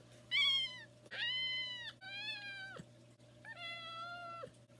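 A person imitates a cat meowing, producing four distinct drawn-out meows with rising and falling pitch, close and clear over a faint steady background hum.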